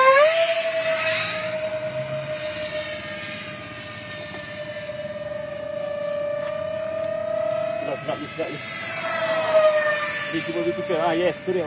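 RC MiG-29 model jet with twin 64mm electric ducted fans, a sustained high-pitched whine that shifts pitch as it passes and banks, loud and near over an outdoor flying field, with people talking around it.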